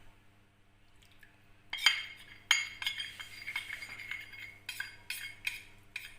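Spoons and metal utensils clink against bowls as custard powder mix is slowly added to a mango mixture, with a few sharp taps and scrapes over a faint background hum.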